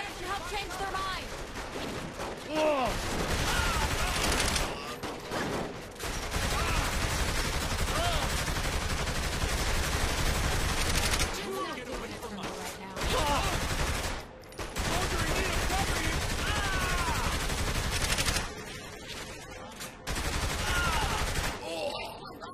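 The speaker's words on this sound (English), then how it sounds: "Shooting them probably doesn't help change their mind!" Sustained bursts of gunfire while shooting enemies in Saints Row 3, loud dense fusillades broken by short pauses, with voices talking over parts of the fighting.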